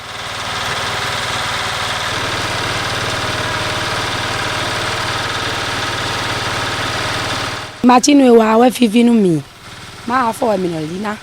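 An engine-driven mill presses cooked palm fruit to separate the oil from fibre and nuts, producing a steady mechanical drone for several seconds before a voice begins talking over it.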